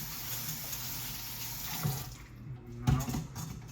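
Tap water runs steadily from a kitchen faucet while tomatoes and green chilies are washed, a continuous close hiss with a couple of brief splashing bumps near the end.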